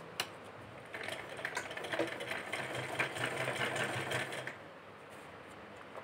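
A sewing machine runs in one sustained burst lasting a few seconds, stitching a fabric strip onto a garment neckline, its fast mechanical rattle close and steady before stopping into quiet.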